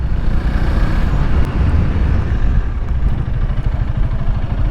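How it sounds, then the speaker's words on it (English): A Honda Rebel 300 motorcycle engine sputters and bogs while lugging in too high a gear, a loud, continuous, rough low rumble with uneven pulses throughout, close up. "Feels like the bike's gonna bog out. It's sputtering."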